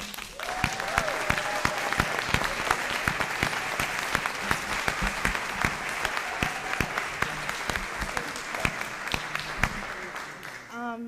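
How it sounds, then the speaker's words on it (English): At a school board of education meeting, a room full of people claps for a long stretch, individual sharp claps standing out within the steady applause, with a few voices calling out underneath. "let's hear a big round of applause for Danielle Aline."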